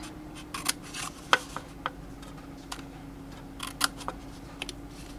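Scissors snip into a paper milk carton along its bottom edge: a series of sharp, close clicks and crisp cuts at uneven intervals over a faint steady hum.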